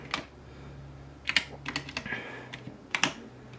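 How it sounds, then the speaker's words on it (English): Keys on a computer keyboard in a home office being typed in short bursts while a password is entered, a handful of close, crisp clicks with pauses between them. "Let's see if I can put my password in."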